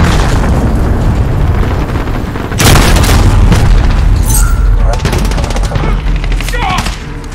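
Missile blasts and gunfire in a Call of Duty Modern Warfare match, with a loud booming explosion midway followed by rattling shots and rumbling debris, all close and heavy.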